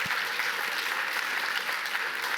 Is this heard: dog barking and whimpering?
no